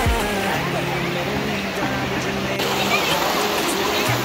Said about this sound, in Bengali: পানির প্রচন্ড ঢেউ।